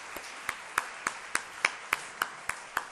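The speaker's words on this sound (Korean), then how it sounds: "이제 우리 박수로 한번 축복하고요." A church youth-service congregation gives a slow, sparse clapping, about ten separate claps spaced evenly over a few seconds, faint and with no talking.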